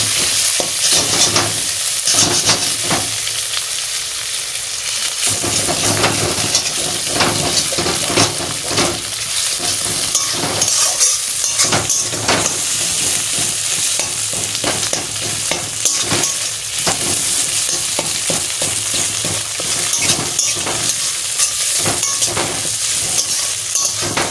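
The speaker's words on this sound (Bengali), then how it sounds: "প্রথমে আমি ভালো করেই ভাজা করে নিচ্ছি" Oil sizzles loudly and continuously in a pan as fish fries while a utensil repeatedly scrapes and stirs, with occasional clinks against the metal.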